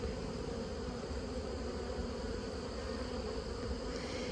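Bees buzz in a constant, droning hum close by, steady and unbroken the whole time, with no voices.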